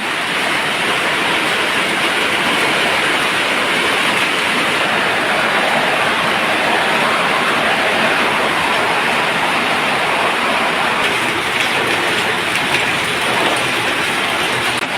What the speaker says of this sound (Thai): ฝนกำลังตกเลยที่บ้านสวนริมคลอง